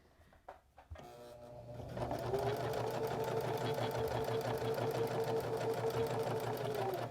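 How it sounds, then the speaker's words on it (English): A sewing machine stitches a seam on a fabric drawstring bag, starting with a few clicks and then running in a steady, close, whirring hum with a fast rhythmic needle beat, heard without talk. "Now we're ready to stitch"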